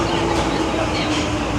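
A train pulling into a station in Japan, a steady rolling rumble with a faint squealing tone, close and continuous with no voices.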